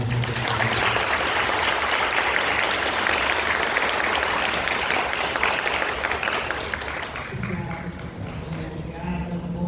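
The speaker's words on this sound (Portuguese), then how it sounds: "Peço uma salva de palmas." An audience applauds at the opening of an arts and memory session, a thick, continuous clapping that rings out loud for several seconds, then thins and fades as a voice begins speaking near the end.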